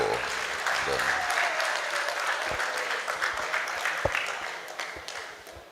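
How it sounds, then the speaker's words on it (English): An audience at a law-week town hall meeting applauds steadily, a dense wash of clapping held at a constant level with a few louder claps standing out and faint voices underneath. "Please, a round of applause for them."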